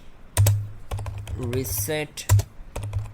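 Command typed on an HP laptop keyboard running Windows 11: a few quick bursts of key clicks with a heavier thump, close and clear, alone without talk.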